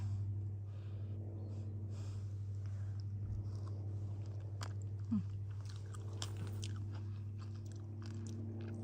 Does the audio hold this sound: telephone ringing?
no